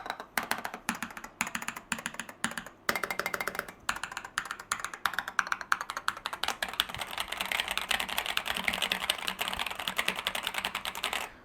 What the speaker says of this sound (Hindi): ब्लू स्विचेस अगर आपने सुने होंगे तो ये खटर पटर वाले स्विचेस जो हैं वो आपको यहाँ पे मिल रहे हैं